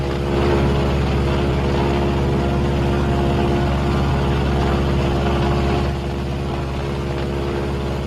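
Twin piston engines of a B-26 bomber droning steadily in flight, a loud, constant low roar with a throbbing undertone that eases slightly in level toward the end.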